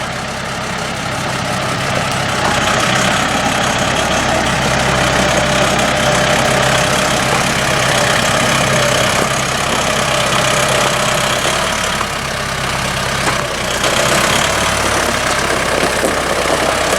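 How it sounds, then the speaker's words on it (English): A tractor engine idles steadily beside a Woodland 126 sawmill outdoors, a loud, close, continuous low rumble with a faint knocking pulse and slight swells in level, no talking. "Our neighbor Ron has brought his tractor up, and we're going to pick us out a log"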